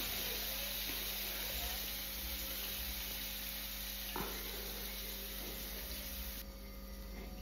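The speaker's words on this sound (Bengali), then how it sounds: "তাই একটু লাল লাল করে আলুগুলোকে ভেজে নেব।" Potatoes fry in hot oil with dried chilli and cumin, giving a steady, dense sizzle that runs unbroken and fairly loud, with a faint background hum.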